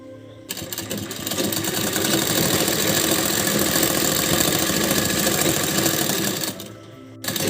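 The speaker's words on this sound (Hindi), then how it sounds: "इसको फोल्ड करके इस कपड़े को इसी पे रख के हम पूरी सिलाई लगा देंगे" A sewing machine stitches a folded strip onto a simple blouse, its loud, steady, fast mechanical whir running continuously for several seconds between brief quieter pauses at start and end.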